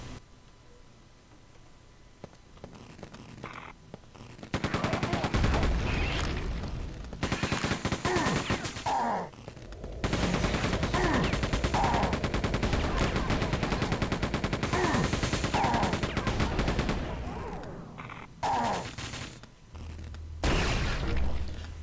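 Railgun fire and combat in the video game Quake 2, heavy loud blasts in sustained bursts with short quieter gaps between them.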